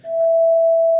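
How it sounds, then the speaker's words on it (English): A pure sine tone at A 440 with a second sine a perfect fifth above, sounding together as one steady, clean, loud chord for about a second, ending in a brief click. "This is called what we call a perfect fifth."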